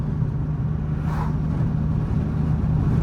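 Engine of an 11th-generation Honda Civic Si with a tune, revved during a manual rev match: a steady, loud low droning rumble with a slight swell partway through, heard alone without talk.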